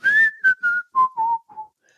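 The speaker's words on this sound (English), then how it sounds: "If I'm just aimlessly whistling" A person whistles a tune, a clear, close melody of six short notes that steps downward in pitch and then fades out.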